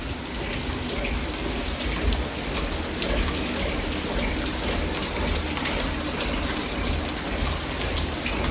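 Steady rain falls during a downpour, a continuous dense hiss of drops on surfaces that stays even and unbroken throughout, with no voices.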